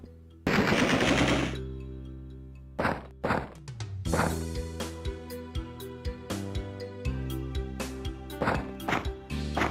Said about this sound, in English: Are they dual-wielding shotguns?